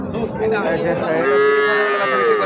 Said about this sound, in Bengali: জাহাঙ্গীর ভাইয়ের যে গরুগুলো দেখতেছিলাম